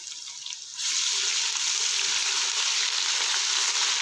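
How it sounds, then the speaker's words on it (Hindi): Ginger garlic paste lands in a pan of oil with browned onions and breaks into a loud, steady sizzle that starts abruptly and keeps up a dense frying hiss, close and unbroken, with no voices. "ये खुशबू आने तक इसको भूनते रहेंगे कुछ सेकंड के लिए।"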